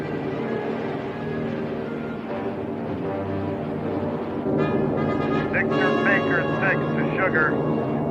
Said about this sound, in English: radar reports returning aircraft 2 miles out